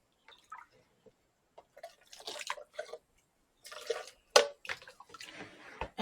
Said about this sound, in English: add water to your blender.